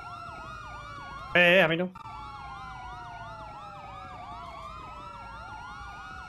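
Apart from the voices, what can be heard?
police sirens in the video game GTA V roleplay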